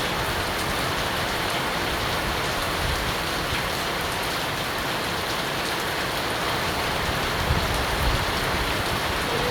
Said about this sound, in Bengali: আল্লাহর রহমত, যে বৃষ্টি নামছে।